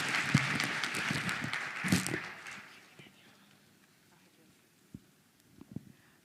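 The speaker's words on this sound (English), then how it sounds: "Please give her a round of applause" Applause from the audience at a Gauteng women in sport dialogue, a dense spell of clapping over about three seconds that then fades out, leaving a quiet room with a few isolated knocks.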